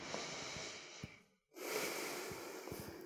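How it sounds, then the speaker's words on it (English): Slow, audible breaths in and out during an upper-body foam rolling session: a long breathy exhale, a short pause, then a deep inhale, close and alone. "And just breathe through it in and out."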